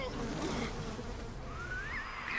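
Bees buzz in the video game BioShock Remastered, a steady droning hum that runs through the whole clip with a faint voice underneath.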